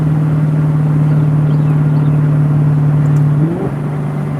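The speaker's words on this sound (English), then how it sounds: "It's a 2015 Maserati Gran Cabrio Sport." A 2015 Maserati Gran Cabrio Sport drones at steady speed with a loud, even engine hum, then the pitch dips and shifts near the end as the revs change.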